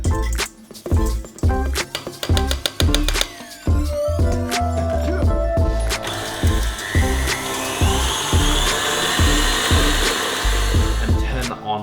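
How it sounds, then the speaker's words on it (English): An electric mixer whisks a sugar mixture at high speed. It gives a series of rhythmic thumps at the start, then settles into a loud, steady whirring drone with a rising whine that lasts around eight seconds. "whisking on high speed until it's really nice and light and pale"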